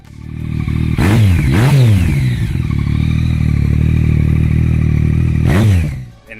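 A 2014 Yamaha FZ-09 motorcycle fitted with a GPR exhaust, idling close by and revved sharply twice in quick succession, then held at a steady idle before one more quick rev near the end.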